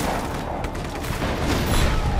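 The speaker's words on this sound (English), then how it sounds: "The airstrike is in my favor, guys. It's destroying all these things up for me." Airstrike explosions tearing through a military base in Just Cause 3: a dense, continuous barrage of booms and rumbling blasts, loud and close, with no pause over the short stretch.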